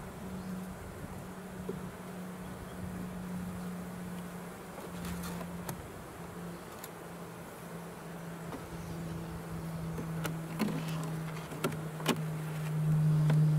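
Honey bees buzz steadily at a hive after winter, a close continuous drone with a few sharp ticks and brief taps, growing slightly louder toward the end.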